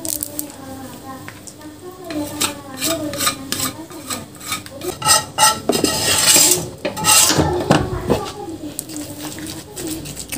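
A spoon scraping and rasping against a pan while beef tum, a Balinese spiced beef dish, is stirred with fried shallots, with clinks of metal and someone talking over the stirring throughout.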